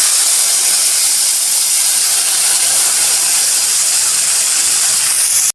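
Water splashed into hot oil tempered with black cumin hisses loudly and steadily, a dense close sizzle that holds for several seconds before cutting off abruptly.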